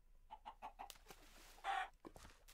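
Minecraft chickens give a run of four short, evenly spaced clucks, then a louder, longer squawk and a few scattered taps, close and clear over a quiet background.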